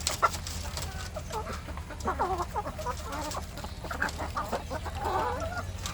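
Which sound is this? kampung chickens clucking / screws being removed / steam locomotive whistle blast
kampung chickens clucking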